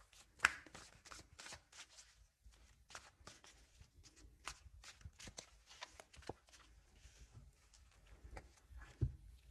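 A deck of cards shuffled close up, a rapid ruffling riffle repeated in quick bursts with short pauses between, quiet and alone.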